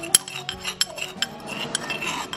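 A utensil mixes homemade salad sauce in a bowl, giving a series of light, close clinks and scrapes at an uneven pace, with no speech.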